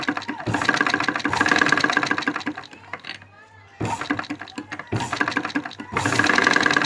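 A sewing machine stitches a boat neck blouse in close, loud mechanical whirring runs, rattling for about two seconds, pausing briefly, then starting again in two more bursts.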